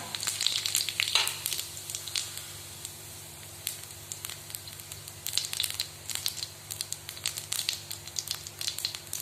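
Cumin seeds crackling in hot oil for a bottle gourd and chana dal curry, faint steady sizzling broken by irregular clusters of sharp pops and spatters, close by and without speech.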